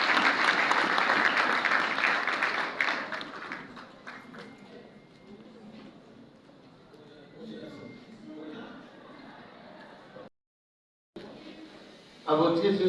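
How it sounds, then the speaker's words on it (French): A hall full of people applauds the rector of the Protestant University of Congo at a ceremony. The clapping starts loud and dense, then thins out and fades under a voice speaking, with a short dropout before a final burst. "Je vous prie de l'applaudir, s'il vous plaît,"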